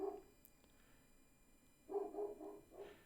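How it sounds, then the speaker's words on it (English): A neighbor's dog barks at a distance, one short bark followed after a pause by a quick run of three or four barks, faint against a quiet room. "you can hear my neighbor's dog barking"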